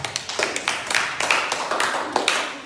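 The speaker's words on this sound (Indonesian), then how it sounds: "Mari kita beri aplaus untuk kelompok 2." A classroom group applauds group 2 with a short burst of scattered, moderately close hand claps of uneven rhythm.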